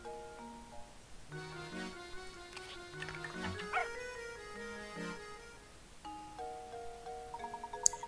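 A robot dog in the Professor Layton and the Curious Village game gives a series of synthetic, musical yips and whimpers in quick stepped tones, fairly quiet over soft game music.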